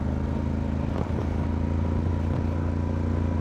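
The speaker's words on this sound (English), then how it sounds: "I've just dropped down to second gear trying to let engine do all the work." A motorcycle engine held in second gear while descending a steep pass, a steady low drone running throughout at close range with a faint clatter just past the first second.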